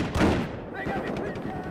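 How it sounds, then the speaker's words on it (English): A grenade blast in Call of Duty erupts as a loud, broad burst of explosive noise, then trails off into rumbling debris and scattered crackling, with a voice partly mixed in. "Fucking Call of Duty grenade that asshole!"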